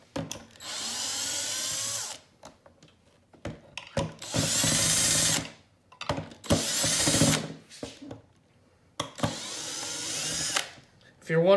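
A power drill whirs in four bursts of a couple of seconds each while taking apart a Shark IQ robot vacuum, separated by pauses filled with clicks, handling noises and brief talk.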